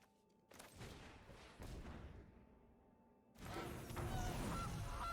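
Goose honks from the Gilded Goose card in the MTG Arena game sound as short digital calls, with a burst of honking, a quieter gap, then another louder stretch of game effects.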